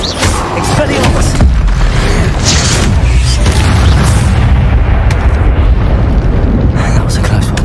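Confringo fire spell bursting in Hogwarts Legacy, a dense, loud rumbling blast that rolls on for several seconds with crackling bursts layered over it, a voice speaking on top.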